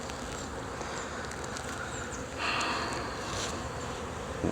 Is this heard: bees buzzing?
yes